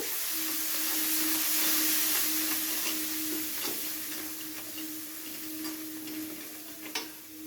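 Green chili, ginger and garlic paste fries in a pan for fish curry, hissing in a steady sizzle with occasional sharp ticks of a spoon stirring against the pan. It sounds close, with a constant low hum underneath and no talk.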